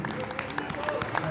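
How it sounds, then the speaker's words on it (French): Short burst of audience clapping at a birthday evening party, a dense patter of many hands close by with a little crowd murmur mixed in. "Je voudrais qu'on les applaudisse."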